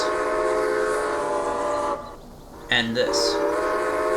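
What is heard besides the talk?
two-note steam locomotive whistle in Railway Empire video game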